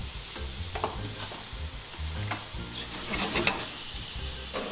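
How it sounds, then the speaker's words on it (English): Tomatoes, olives, pine nuts and capers are stirred into onions and celery frying in a pan, giving a soft sizzle with scattered scraping and stirring sounds, close by and fairly quiet. "He then stirs in the tomatoes, olives, pine nuts and capers."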